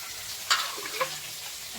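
Onions frying in a pan while the dish is being cooked: a soft, close sizzle broken by a couple of sharp stirring clacks, with no voices.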